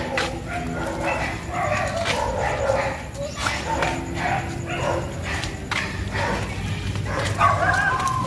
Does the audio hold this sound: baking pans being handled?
no